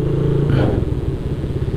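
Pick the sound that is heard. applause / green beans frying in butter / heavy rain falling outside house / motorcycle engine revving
motorcycle engine revving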